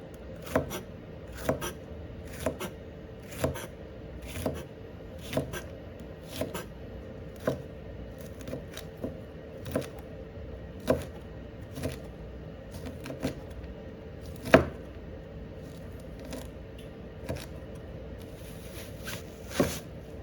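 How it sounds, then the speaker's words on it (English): A knife chops a chili pepper into small pieces on a cutting board, sharp close taps at a steady, roughly once-per-second rhythm over a quiet background, no talking. "Cut the chili pepper into small pieces."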